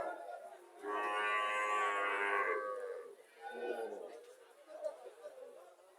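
A Haryana-breed dairy cow and her heifer calf at a Cumilla cattle market moo, one long loud call followed by shorter lowing, with market chatter behind.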